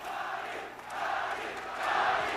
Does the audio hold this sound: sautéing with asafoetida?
no